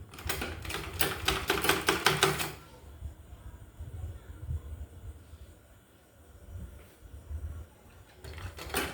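A sewing machine stitches a folded edge on a blouse in a rapid, steady mechanical run for a couple of seconds, then falls quiet before briefly starting again, up close.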